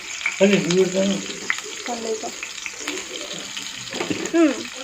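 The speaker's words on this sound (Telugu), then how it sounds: "వాటర్ వేసుకొని మళ్ళీ ఒక 2 నిమిషాల పాటు కలుపుకొని తర్వాత మూత పెట్టుకోండి" Curry with added water simmering and sizzling in a pan while being stirred, a close bubbling hiss with watery sloshing and spoon scrapes, joined by brief bits of voice.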